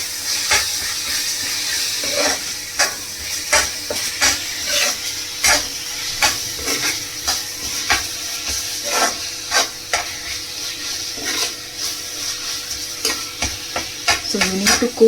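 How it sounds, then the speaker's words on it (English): Tomatoes and onions sauté in a pan for an egg pepper masala, sizzling steadily while a spoon stirs and scrapes in repeated strokes, close and alone. "Now all we're going to do is we're going to saute it and let it cook."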